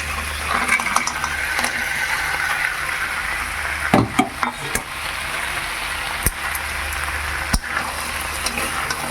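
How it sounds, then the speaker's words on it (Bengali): Fried vegetables and bori lentil dumplings are stir-fried in a pan for shukto, a steady moderate sizzle with repeated sharp scraping and clattering of a spatula against the pan. "এবার আরও একটু ভালো করে কষে নেবো"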